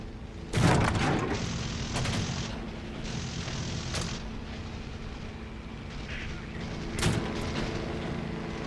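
Gunfire and booming impacts in the War Thunder combat game: a loud blast near the start, further bursts around two and four seconds, and another hit near seven seconds over a steady roar of battle noise.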